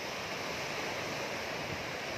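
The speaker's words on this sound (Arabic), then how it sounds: "هذه حالة البحر" Moderately rough Mediterranean surf rolls in on Egypt's north coast at Sidi Kerir, a steady, dense wash of breaking waves with no voices over it.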